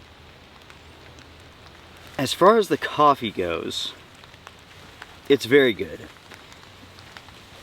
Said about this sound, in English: It is still raining, everyone. It is very, very light,